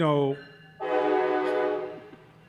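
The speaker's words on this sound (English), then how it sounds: "I hate that train so much." A loud train horn sounds nearby, a sustained, steady blast held for a second and a half before trailing off, following a brief voice at the start.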